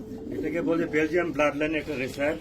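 Belgian bloodline racer pigeons, a large pair, coo in soft repeated bursts at close range, with a voice talking over them throughout.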